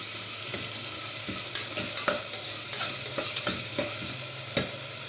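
Chopped green chilies, onion, potato and tomato frying in hot oil, with a steady sizzle and repeated scraping stirs from a spoon, loud and close with no voices.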